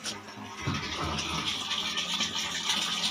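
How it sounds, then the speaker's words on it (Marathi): Water from a motor pump flows into a second household storage tank, a moderate, continuous splashing rush with some low rumbling, no voices. "इथे पण पाणी भरलं जातं आहे"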